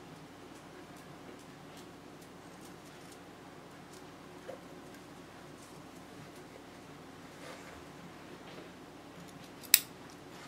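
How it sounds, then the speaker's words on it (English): Scissors snip small clips into sewn fabric around a curved seam, soft quiet cuts over a faint hiss of room noise, ending in one sharper snap near the close. "You're just clipping around the curve."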